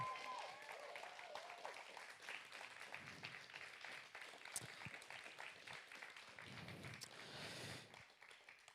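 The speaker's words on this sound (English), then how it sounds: "Give them a huge round of applause." Audience applause after a musical theatre technology event, a steady wash of many hands clapping at moderate loudness, with scattered crowd noise and a sharp bump at the very end.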